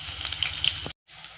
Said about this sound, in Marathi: आता हा कट करून घेतलेला कांदा टाकून घेणार आहे. आणि कांदा चांगला परतून घ्यायचा.